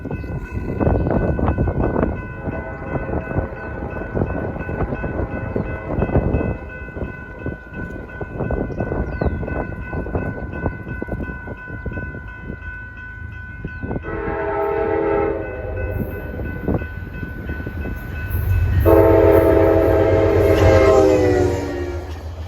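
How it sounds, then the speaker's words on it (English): A Metro-North commuter train, number 841, with orange-striped Connecticut Department of Transportation cars, rumbles loudly past along the Hudson River line. Two sustained horn blasts sound over the rolling wheel noise, the second louder and closer. "Here comes Metro North 841 at 4:58."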